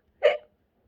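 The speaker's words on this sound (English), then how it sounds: "The hiccups stayed." A cartoon skeleton's single short hiccup, a brief voiced gulping burst standing alone and then cut off, followed by silence.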